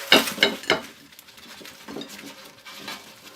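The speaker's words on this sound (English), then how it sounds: "Let's get these on a plate." Air fryer chips tipped onto a plate give three quick clattering knocks at the start, then a softer scatter of light scraping and tapping fades away.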